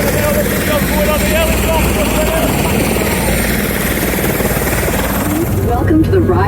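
A helicopter flies over Niagara Falls, its rotor and engine a loud, constant drone heard from inside the cabin, with a voice announcement speaking over it.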